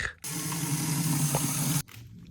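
Water runs from the small tap of a jerrycan carried in a converted Peugeot Partner camper van, a steady close hissing stream that starts abruptly and cuts off after about a second and a half.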